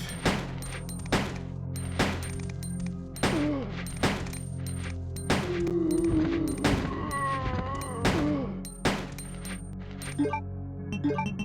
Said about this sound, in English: Use up some of these bullets I have.